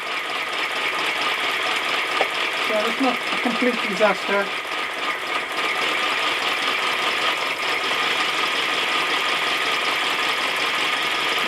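A steady mechanical chuffing and hiss of a small scratch-built gauge 1 live steam engine running continuously, steam blowing from its exhaust pipe, with someone speaking briefly over it partway through.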